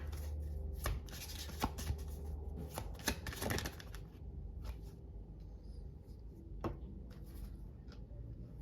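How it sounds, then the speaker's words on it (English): Tarot cards being shuffled and pulled from a deck: soft, quiet riffling and flicking with scattered crisp paper snaps and taps at an irregular rhythm, close by and alone. "Let me see if I can pull some cards out to see if I can get a gender card"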